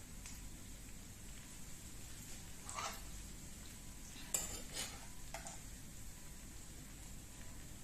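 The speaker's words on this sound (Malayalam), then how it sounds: "ചെറിയ തീയിൽ കിടന്ന് ഇതൊന്ന് തിരിച്ച് മറിച്ചു വിട്ട് ഇതൊന്ന് വറുത്ത്" Bread slices frying in a pan over a low flame for bread halwa: a soft, steady sizzle with a few light scrapes and clinks of a spatula as the pieces are turned. Quiet and close, with no talking.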